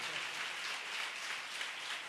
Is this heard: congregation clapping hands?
yes